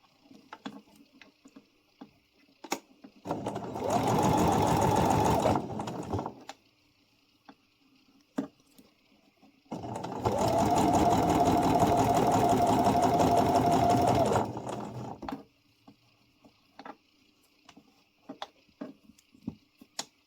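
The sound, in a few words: sewing machine stitching a pompom scrunchie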